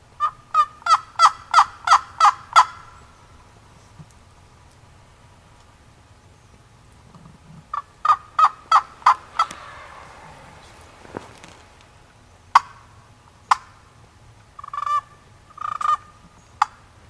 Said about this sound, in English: I just heard one gobble down here.